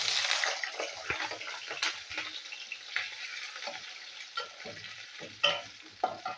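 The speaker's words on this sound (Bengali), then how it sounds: "বন্ধুরা, এবার একটু তেলেতে একটু আলু ভেজে নেবো।" Potatoes fry in a little oil, a close crackling sizzle broken by frequent spatula stirs and scrapes against the pan, with no speech.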